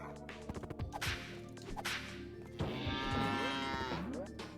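A cow is launched in a retro 16-bit-style platformer, first level New Junk City: a loud, drawn-out moo rises over game music and whooshing whip-like effects, with a couple of short thwacks before it.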